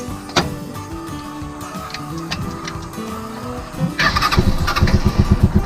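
A borrowed motorcycle on a Philippine egg farm cranks and fires up, then settles into a steady, close idle with a rhythmic throbbing pulse for the last second and a half.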